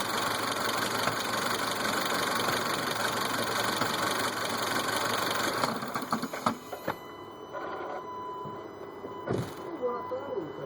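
An idling VW 1.4 TSI Ecofuel engine with a DSG7 gearbox and a faulty flywheel runs with a steady mechanical clatter, then is switched off, leaving a few irregular knocks and taps.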